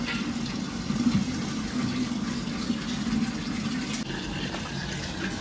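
Water runs steadily from a tap into a container of stored drinking water, a continuous close gushing fill lasting several seconds with no talk over it.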